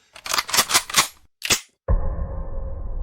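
Gunshots fired at someone in a Chinese short drama, with bullets stopped by some barrier: a rapid, sharp burst of about five shots, a lone shot, then a sudden sustained rumbling tone.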